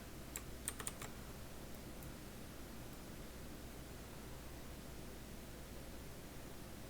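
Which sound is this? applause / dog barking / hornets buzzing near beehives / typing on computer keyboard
typing on computer keyboard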